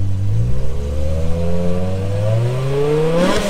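BMW engine fitted with an aftermarket exhaust, likely the V10 M5, revving up loudly and close by, its pitch rising steadily over several seconds before a sharp burst near the end, with no talk.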